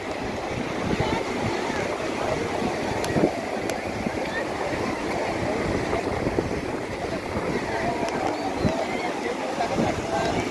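Surf rolls steadily onto New Digha beach on a busy Sunday, a continuous broadband wash of breaking sea waves and wind with no clear gaps, while faint crowd voices and chatter sit underneath.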